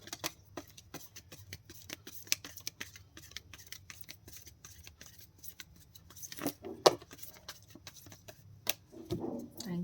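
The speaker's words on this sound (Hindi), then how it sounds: "Any other card? This is my last shuffle." Tarot cards being shuffled by hand, soft quick riffling ticks and clicks scattered across the clip, faint and close with no talk.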